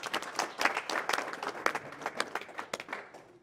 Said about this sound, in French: on applaudit les candidats et ceux qui sont élus